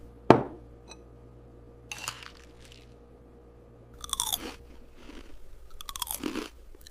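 Crunchy breakfast cereal with milk and sprinkled sugar being eaten in a kitchen: one sharp clink near the start, then several bursts of close, crisp crunching and chewing with quiet gaps between, no talking.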